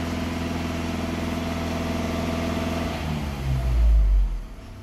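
A Volkswagen Amarok engine with an Ironman 4x4 pedal booster fitted, revving up toward 3000 rpm: a loud, close, steady engine drone that swells into a heavier rev near the end and then drops away.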